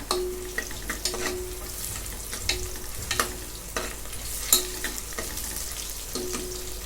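Mutton fries with onions in a pan for Saoji mutton, a busy sizzle broken by repeated scraping stirs and occasional sharp metal clinks, close and fairly loud.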